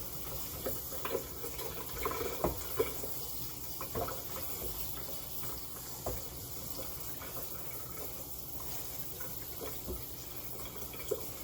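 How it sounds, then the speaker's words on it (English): Pasta sits under a running cold kitchen tap, a steady, soft water flow with faint splashing and occasional clinks of the strainer, heard alone and close but at low volume. "So just our pasta, rinsing under cold water, getting it ready for the dehydrator."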